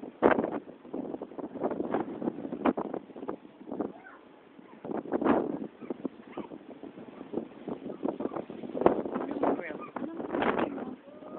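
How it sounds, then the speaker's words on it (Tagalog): Gusty wind buffeting the microphone in rough, uneven bursts, loud and close, with a voice talking underneath. "laging lakas ng hangin. Kala mo bumabagyo."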